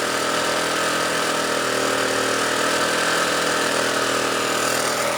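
A generator set engine fueled by firewood runs steadily, a continuous loud mechanical drone with a rough, even rumble, close by and alone without talk.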